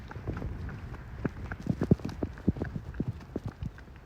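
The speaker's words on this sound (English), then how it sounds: "This is 50 Shades of Hay, her Medaglia d'Oro filly." Hooves of a Thoroughbred mare and her filly clop at an uneven walking rhythm on firm ground, fairly faint with light wind noise.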